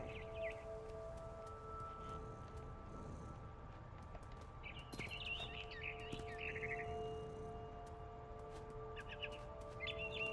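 Bird chirps in the video game What Remains of Edith Finch: short, faint high tweets in scattered bursts over a quiet ambient background with a steady tonal hum.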